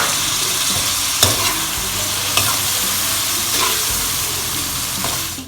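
Chopped tomatoes sizzle and fry in hot oil with garlic ginger paste, a loud continuous crackling hiss close up, punctuated by a few sharp clanks and scrapes of a spoon stirring the pan.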